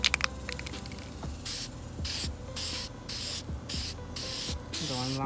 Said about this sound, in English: Throw a test spray.